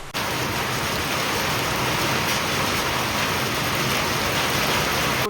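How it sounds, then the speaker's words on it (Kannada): Rain pouring onto a house roof that leaks, making a dense, steady, loud hiss with no pauses and no voices. "ಇಲ್ಲಿ ಮಳೆ ಬರತ್ತೈತಲ್ರಿ, ಎಲ್ಲ ಸೋರ ಹತ್ತಿಬಿಟ್ಟು ನೋಡ್ರಿ"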